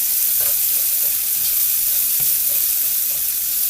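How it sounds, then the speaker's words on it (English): Onions frying in the drippings left from hamburger patties: a loud, continuous close-up sizzle with soft stirring scrapes, steady throughout, with no one talking. "meat that was cooked on the bottom of the pan is being cooked in with these onions"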